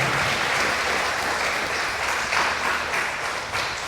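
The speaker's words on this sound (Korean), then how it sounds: "박수로 환영하겠습니다." A church congregation applauding in welcome, warm continuous clapping filling the room for a few seconds at a steady level, with faint low voices beneath.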